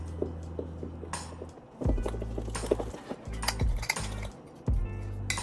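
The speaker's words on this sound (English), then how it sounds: "I'm just using a fork to mix" A fork stirs snack ingredients with cinnamon in a clear plastic cup, giving repeated scraping and clicking strokes in uneven bursts close by, with no talk over it.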